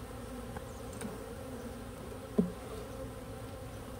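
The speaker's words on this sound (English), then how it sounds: "bees are being lazy." Honey bees buzzing at a hive in a backyard apiary during a swarm cell split inspection, a faint steady hum with a brief louder tap partway through.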